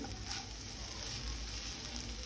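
Jaggery melting in a pan as it is stirred for a traditional sweet, a steady soft sizzle with faint scraping, continuous and close, with no talking.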